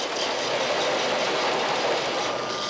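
A 1999 model steam train locomotive runs along its layout, giving off a soft, steady hiss and rumble with even chuffing, heard up close without talk.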